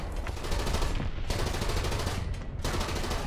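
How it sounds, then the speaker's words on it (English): Dense, continuous machine gun fire with overlapping gunfire from a tank battle video game, loud and sustained across the whole stretch with two brief dips in intensity. "Suppressing MG fire, not that it would do anything."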